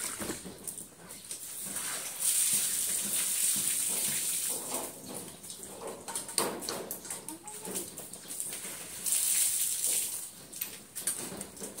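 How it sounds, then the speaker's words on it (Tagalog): Water is poured into a dog's bowl outdoors in hot weather, a steady splashing patter running throughout with a couple of louder surges, dog and bird sounds faintly in the background. "Lagyan natin ng tubig."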